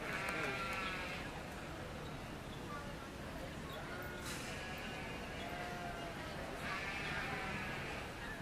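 Sheep bleating at a 4-H/FFA market lamb show, a few calls rising over a steady crowd murmur and arena bustle, with people talking nearby throughout.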